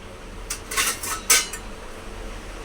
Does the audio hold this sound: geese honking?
no